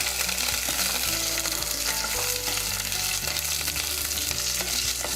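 Green chillies and onion sauté in a hot pan for a coriander chutney, a dense, continuous close sizzle with faint stirring scrapes running throughout.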